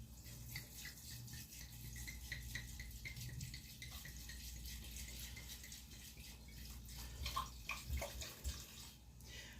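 Liquid pours and splashes into a pot in a steady stream, with a few clinks and rattles near the end, close by.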